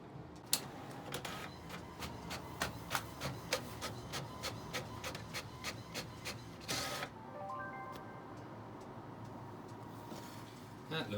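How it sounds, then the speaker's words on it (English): A printer runs off a dial decal on paper: repeated crisp clicks and ticks from the moving print head over a mechanical hum, ending in a brief paper-feed whir. "So I'll go and put the paper in the printer and then we'll print it off."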